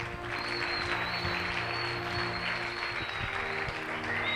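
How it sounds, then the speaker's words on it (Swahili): Audience clapping at a youth seminar, a steady dense wash of applause filling the room throughout, with a sustained electronic tone and faint voices beneath. "Piga makofi vizuri."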